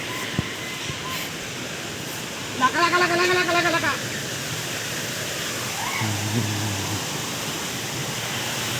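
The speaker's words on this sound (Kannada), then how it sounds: "ಇಲ್ಲಿ ನೀರು ಹರಿತೈತಂತೆ" A steady broad rush of water flowing through a rock crevice on a wooded hill fills the background throughout, while a voice speaks briefly over it partway through.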